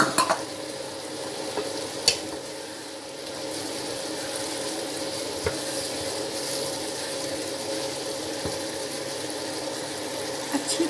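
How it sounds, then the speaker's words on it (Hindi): Vegetables and spices sizzling in a pan for vegetable pulao, a steady close frying hiss with occasional scrapes and knocks of a stirring spoon, no talking. "अच्छी तरह भून लेंगे"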